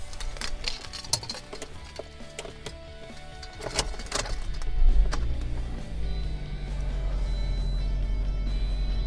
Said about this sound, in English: So now we're going to hop in and start the vehicle.